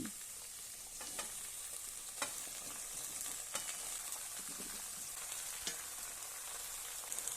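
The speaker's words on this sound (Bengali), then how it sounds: "পেঁয়াজকলি শিম বেগুনটা একটু ভাজা হবে" Spring onions, flat beans and eggplant fry in a pan with already-fried potatoes for a winter prawn dish, giving a steady sizzle throughout with occasional scraping stirs and clicks of a utensil, close and moderately loud.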